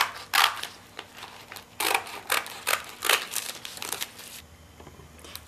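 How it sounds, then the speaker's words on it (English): Scissors cut through plastic rub-on packaging in a run of sharp crunchy snips and crinkles, close and fairly loud, before the sound settles into a faint hiss. "The easiest way is to cut right through the packaging."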